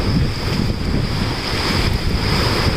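Strong ocean waves break continuously at a kite surfing beach in Burundi, a steady loud roar of surf mixed with heavy wind buffeting the microphone throughout, no voices.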